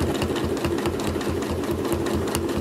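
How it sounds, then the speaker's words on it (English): A sewing machine stitches a quilt at a steady, unhurried pace, its rapid needle chatter continuous and close throughout, with no voices over it. "And you see I'm not stitching too fast."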